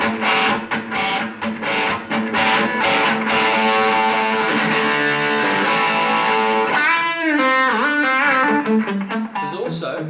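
An electric guitar played through the overdrive channel of a Blackstar amp rings out with chugged, distorted chords, then sustained bends and vibrato, loud and continuous throughout.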